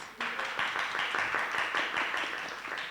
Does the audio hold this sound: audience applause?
yes